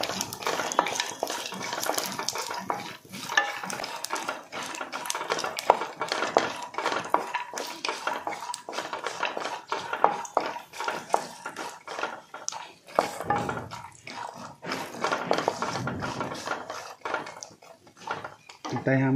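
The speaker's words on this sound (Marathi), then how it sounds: "तूप गरम झालेलं आहे, थोडेसे जिरे टाकायचे आहेत, त्यानंतर लगेच काजू घालायचे आहेत व तुपावरती हे काजू परतून घ्यायचे आहेत।" Cumin seeds and cashews stirred and roasted in hot ghee, with a spoon scraping and clinking against the pan in rapid, irregular strokes over a faint sizzle, continuing steadily with brief pauses.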